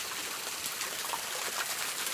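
Water from a small spring trickles softly and continuously, a faint close splashing and dribbling with no voices over it.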